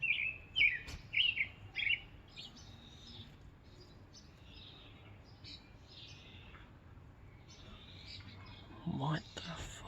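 Small bird chirps in the weeds: a quick run of faint, high tweets at the start, then sparse soft peeps over a quiet outdoor background.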